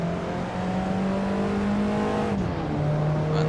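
An Alfa Romeo 4C in the Assetto Corsa racing game holds a steady high engine drone under acceleration, dips briefly as it shifts, then keeps pulling at a slightly lower pitch, loud and close.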